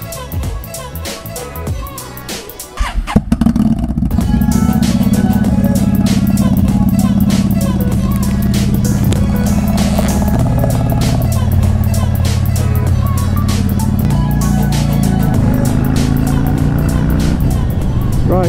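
Motorcycle engine at steady speed with a close, loud, continuous drone and shifting pitch, joined by wind rush after a brief burst of handling noise at the start.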